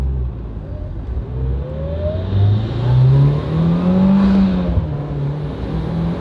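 A car drives along and accelerates, its engine rising in pitch through a couple of gear pulls over steady road and wind rumble, close and fairly loud with no talk.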